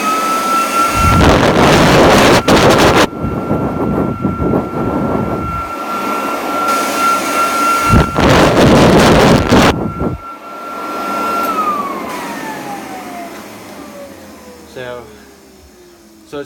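A Royal all-metal upright commercial vacuum runs with its blower attachment, giving loud bursts of rushing air over a steady high motor whine. The whine then winds down in a falling tone as the machine shuts off.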